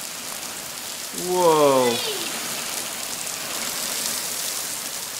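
Steady rain falls outside as a constant soft hiss, while a person exclaims once in the middle.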